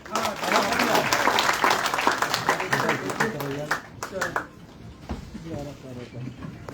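An audience at a BJP headquarters event welcoming prominent new members bursts into applause, dense clapping filling the first four seconds before thinning out, with voices mixed in beneath.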